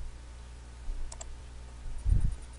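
Two quick, sharp mouse clicks sound close by while burn settings for an original Xbox game disc are chosen, followed by a soft low thump against a quiet room hum.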